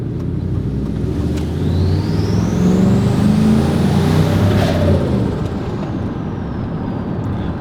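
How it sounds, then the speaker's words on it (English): A turbocharged Chevrolet Silverado accelerates as the turbo spools up. A rising whistle climbs over a heavy engine rumble, close and loud, then eases off with a brief hiss. "That's how fast this thing spools up."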